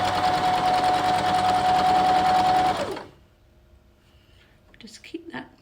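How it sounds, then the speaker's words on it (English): A sewing machine stitches together pieces of a 9-patch quilt block in one loud, steady run that stops abruptly, followed by a quiet room with faint handling noises. "I always put it to the machine, put the needle in, and then I realign it just to make sure"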